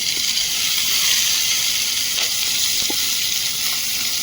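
Garlic, potato and brahmi greens fry together in a pan, making a steady, loud sizzle with a few faint clinks and stirring sounds and no voices.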